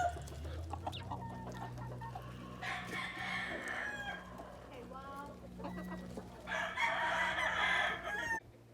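Chickens cluck steadily while a rooster crows twice, loud and close, with a voice talking faintly underneath.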